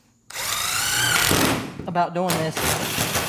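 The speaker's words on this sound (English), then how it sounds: "I'm gonna drill a bunch of holes this time." A power drill bores a series of holes through a Toyota Tacoma drift truck hood, whining loudly in a sustained burst, then stopping briefly and starting again, with a person talking over it.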